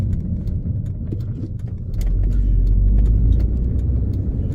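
A first-generation Audi TT Mk1 accelerating on a road, its engine note rumbling and building in loudness, with the strain rising partway through and then holding steady, close and alone with no talk.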